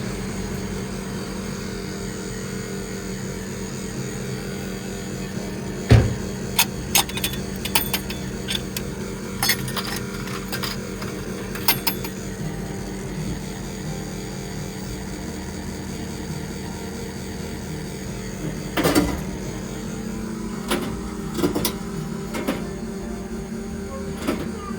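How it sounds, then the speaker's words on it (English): An automated baguette vending machine runs with a steady mechanical hum and drone, broken by intermittent clunks, clicks and thumps from its moving parts. The sound stays close and continuous for the whole stretch, with no talking. "I'm here at the baguette automated machine to see if I can get a baguette"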